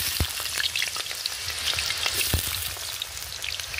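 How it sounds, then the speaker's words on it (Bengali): Small diced potatoes fry in hot oil in a wok, giving a steady bubbling sizzle up close, broken by a few sharp knocks and scrapes of stirring. "তেলটা এবার গরম হয়ে গেছে, এবার আমি এর মধ্যে দিয়ে দেবো কেটে রাখা আলুগুলো।"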